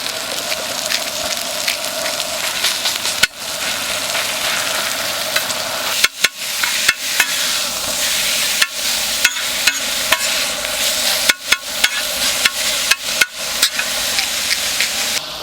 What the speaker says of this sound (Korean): 고기를 볶아주면 끝